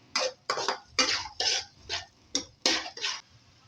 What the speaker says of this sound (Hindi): अभी हम अपने प्याज को नरम करेंगे।